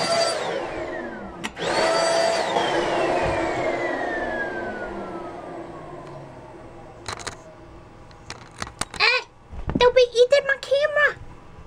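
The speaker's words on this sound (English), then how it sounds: "vacuum the rest of the cage while they're down here" Vacuum cleaner used to clean a guinea pig cage, its motor roaring loudly and then winding down over several seconds, followed by a few clicks and a person talking.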